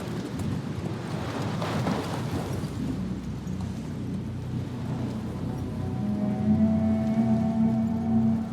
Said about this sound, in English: Storm's passing.